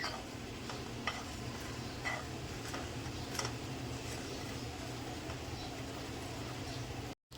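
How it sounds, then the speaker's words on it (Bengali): Cumin, coriander seeds and a dried chilli dry-roasting in a pan, a faint, even crackle with occasional soft ticks and stirring scrapes. "দেখো আমি এর মধ্যে জিরে ধনে আর একটা শুকনো লঙ্কা নিয়েছি এগুলো একটু টেলে নেবো"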